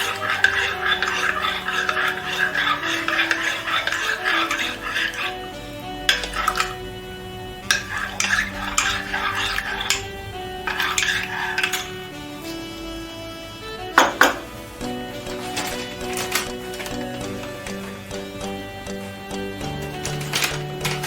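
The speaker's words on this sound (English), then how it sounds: "Then make sure you stir until it becomes smooth." A utensil scrapes and clinks against a pot while stirring a sauce for a chicken dish until smooth, steady and close, with a few sharper metallic knocks and no talk.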